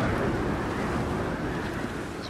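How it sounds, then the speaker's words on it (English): Wind sweeps across the open sea in Assassin's Creed IV, a steady broadband rush with a low ocean roar, continuous and fairly even throughout. "It's windy through these parts"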